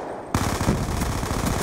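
Rapid automatic gunfire from a sentry turret in the Black Ops 2 video game, starting abruptly after a brief quiet and continuing as a loud, dense burst of shots.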